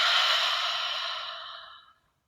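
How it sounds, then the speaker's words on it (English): A single long exhale out through the mouth during a guided meditation, close and breathy, slowly fading to silence over about two seconds. "Exhale out the mouth."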